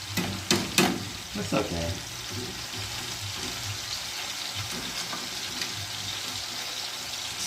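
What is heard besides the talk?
onion sizzling while frying in a pan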